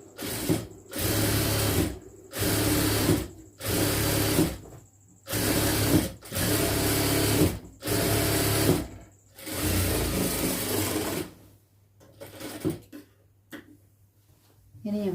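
A sewing machine runs a double stitch along a churidar lining in six or seven steady close bursts separated by short pauses, then stops, leaving quieter handling sounds and a little talk.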